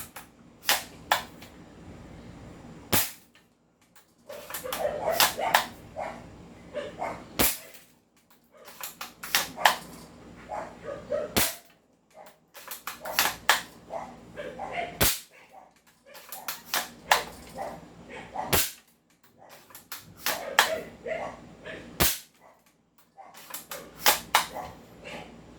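Tokyo Marui VSR11 airsoft sniper rifle firing repeatedly, each sharp snapping shot followed by brief clicks and a voice talking between shots, about six evenly spaced shots close by.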